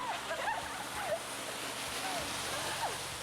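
A huge 18-meter waterfall pours in a steady, loud roar of rushing water, continuous and close throughout, with a few faint high whistling calls rising over the wash.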